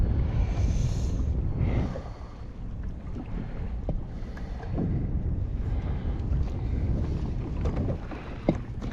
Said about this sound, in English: this wind has made this pretty much impossible for me